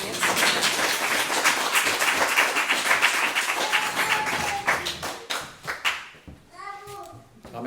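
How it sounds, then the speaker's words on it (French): Lively clapping from a small public audience after a speaker named Marilyn finishes answering questions, strong at first then thinning into scattered claps and fading out, with a voice and a brief whistle-like tone near the end. "Donc vous pouvez l'applaudir"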